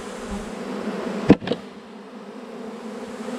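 A swarm of bees buzzing around a hive box during an April swarm capture: a steady, close droning hum, interrupted once by a sharp knock before the buzzing resumes.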